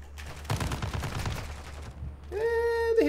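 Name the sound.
gun hipfire shots in the video game Modern Warfare 2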